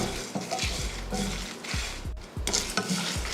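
Sesame seeds, mustard seeds and chana dal dry-roast in a pan over low heat, a soft crackling sizzle broken by repeated scrapes and clinks as a spoon stirs the mixture, with no talk.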